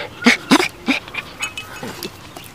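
A dog makes a series of short whining yelps and whimpers in quick bursts, close and fairly loud, over steady indoor background noise.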